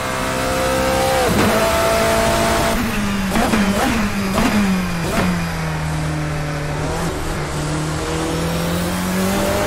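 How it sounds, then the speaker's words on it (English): A Nissan R390 GT1 V8 race car engine in the Assetto Corsa racing game roars loudly and continuously, revving up and down through several gear changes with a high, sustained whine. "And the sound of that V8 engine"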